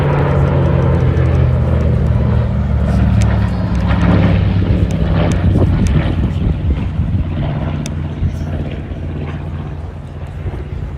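A Curtiss P-36C and P-40F fly in formation at an airshow, their piston engines droning loud and steady overhead before the roar gradually eases as they move away.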